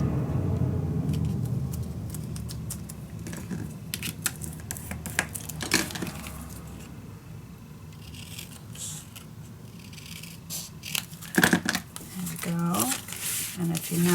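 Scissors cut a strip of vintage winter paper in two for a mini album, a few crisp snips and light crinkling under soft room noise, with a low rumble early on and no clear talking.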